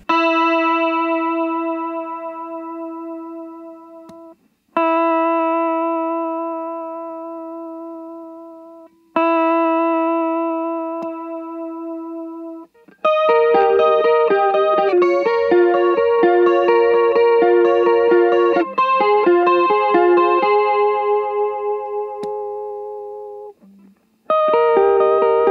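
An electric guitar played through a Way Huge Blue Hippo chorus pedal with the Vibe switch engaged. Sustained chords ring out and decay, then a busier run of picked notes follows, all with a warbling, swirling modulation.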